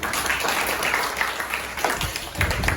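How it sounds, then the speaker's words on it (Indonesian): Audience applause at a seminar on group cohesion, a steady dense patter of clapping from a moderately distant crowd lasting the whole moment, with no voices over it. "tepuk tangan semua"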